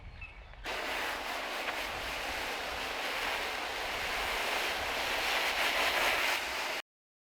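Garden soil being watered before planting carrots, a steady, even hiss of spraying water that starts abruptly, holds at the same level for about six seconds, then stops dead.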